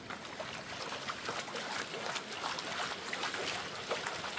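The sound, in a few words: water sloshing while panning material for gold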